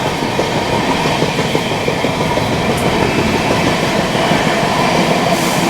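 A train rolling at Prayagraj junction beside the Tapti Ganga Express, with a loud steady rumble of wheels and cars, rhythmic clickety-clack and a faint squeal near the end, heard close up without speech.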